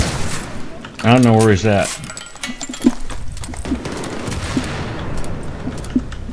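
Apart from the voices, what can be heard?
gunfire in Battlefield 3 video game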